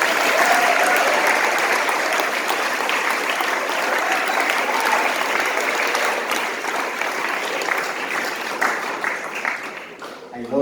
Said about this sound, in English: let's really raise a loud cheer for all of them